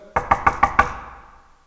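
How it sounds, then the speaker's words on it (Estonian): Five quick, evenly spaced knocks on a wooden door, fairly close and crisp, followed by a fading resonance with no talking. "Ta koputas uksele"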